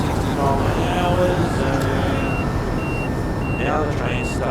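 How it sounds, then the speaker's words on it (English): Train overspeed warning beeps in the Train Simulator Classic game, a series of short tonal beeps repeating over a steady rumbling train cab drone. "now the train's starting to beep at me because I'm going too hot"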